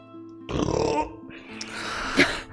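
A single low, rough burp erupts loudly and close, trailing off into a softer guttural exhale.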